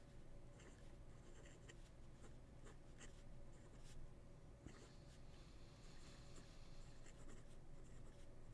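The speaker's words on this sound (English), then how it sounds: "if I use a stub on this, let's take a" Close, steady scratching of a big stub-nib fountain pen moving across paper, with continuous soft friction and faint strokes throughout.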